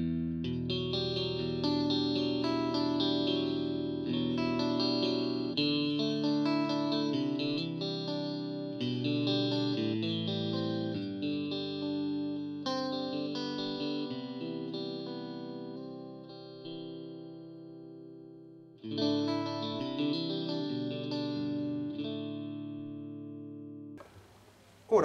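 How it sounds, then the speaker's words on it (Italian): An electric guitar through a Mesa Boogie Transatlantic TA-15 amp on channel 1 in normal mode, clean Vox AC30-style tone, plays strummed chords and ringing notes for about twenty seconds, pauses briefly, then resumes before fading. "questo è il canale 1 e la modalità di funzionamento è quella normal, appunto per la sonorità in stile Vox AC30"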